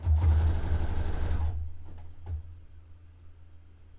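A home sewing machine runs a zigzag stitch along straight-edged lace on a dress made from bed sheets, humming loudly and steadily at close range for about a second and a half before stopping, leaving only faint room noise and a light clack.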